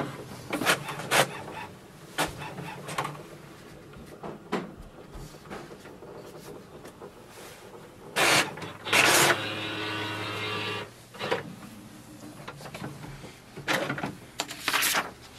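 An HP OfficeJet 8010 printer makes copies, with close mechanical clicks, clunks and creaks scattered through the run and a steadier whirring feed in the middle, ending in more sharp clacks.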